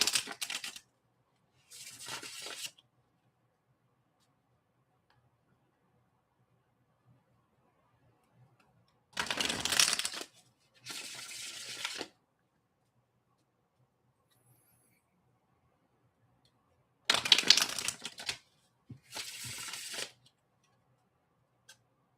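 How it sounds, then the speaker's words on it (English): Tarot cards riffle-shuffled in short, crisp bursts of rapid fluttering clicks, several separate shuffles spaced by quiet pauses, close and clear with no talking. "That's enough riffle shuffling."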